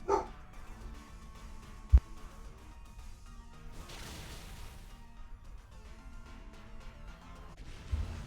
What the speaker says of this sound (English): Sorry if you heard my dog bark.